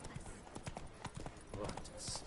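Hooves of a horse in golden armor gallop in The Witcher 3: Wild Hunt, a rapid, quiet clip-clop rhythm over a couple of seconds with background game sounds.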